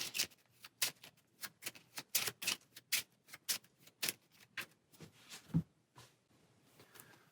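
Cards from a Marvel Champions deck being shuffled during a board game session: a long run of quick, crisp riffling snaps and flicks, close and fairly quiet, in a steady rapid rhythm with no voices.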